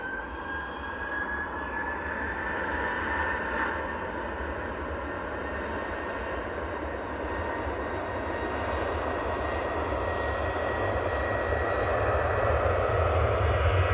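An Airbus A380 jet departs at full power from Manchester Airport in the evening, its engines a loud, sustained roar with a rising whine, steady and unbroken throughout the take-off run.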